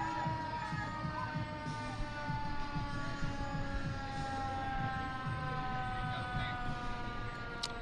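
A fire truck siren wails at a distance during the 2017 Edinboro homecoming parade, over the low rumble of a passing truck and traffic, its tone holding steady and fairly faint.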